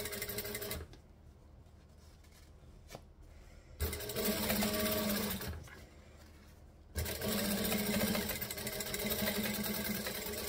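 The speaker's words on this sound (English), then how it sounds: "And I can just chain stitch this one on." A sewing machine chain stitching fabric for a bag, running in two steady bursts of rapid mechanical whirring separated by quiet pauses, close and clear with no talk.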